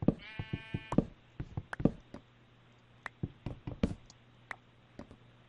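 A clear, harmonic Minecraft sheep bleat opens, followed by a string of sharp clicks and knocks spread unevenly across the rest, with a faint hum beneath.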